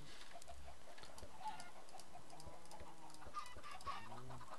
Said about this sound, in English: Whoa! Whoa, chickens!